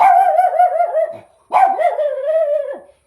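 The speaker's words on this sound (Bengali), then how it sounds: "এ ডগি, ও মা কি সুন্দর ডগি।" A dog barks twice in drawn-out, yelping bursts, close and loud, with a short pause between them and no other voices.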